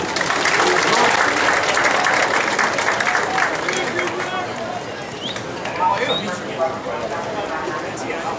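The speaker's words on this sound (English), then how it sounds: "Please give a round of applause to our friend, colleague, and a true advocate of public education, Mr. Tony Danza." Graduation audience in an arena applauding a speaker at a high school commencement, a broad, loud swell of clapping that eases slightly midway, with some voices mixed in.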